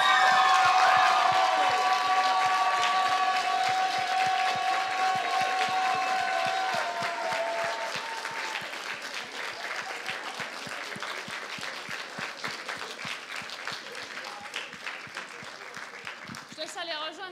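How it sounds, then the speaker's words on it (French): Audience applause with cheers and whistles at a cosplay contest award ceremony, loud at first then thinning to scattered claps over time as voices murmur beneath. "je vous laisse faire un tonnerre d'applaudissements"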